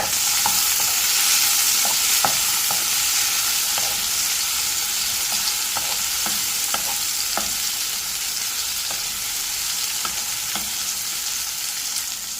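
Steady sizzle of tomato frying in a pan, with repeated scraping stirs ticking through it, close and continuous with no voices.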